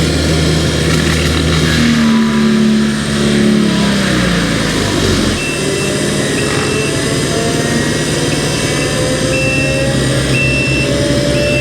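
A saw plunges into solid pine lumber in a dense pine forest, its engine roaring loud and continuous as the revs climb and build back up, with no voices.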